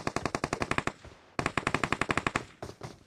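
Rapid automatic gunfire in PUBG, two sustained bursts of evenly spaced loud shots separated by a brief pause, with a few more shots trailing at the end.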